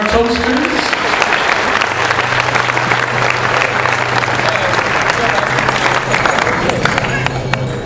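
Wedding reception guests applauding the toasters, dense sustained clapping from a large crowd that fills the room, loud and steady throughout, with some cheering and voices mixed in.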